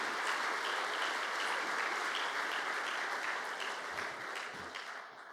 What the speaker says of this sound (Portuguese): Uma salva de palmas para o presidente Lula por essa decisão.